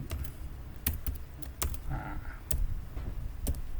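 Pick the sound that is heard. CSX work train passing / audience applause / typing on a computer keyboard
typing on a computer keyboard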